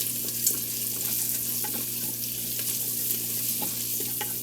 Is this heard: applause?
no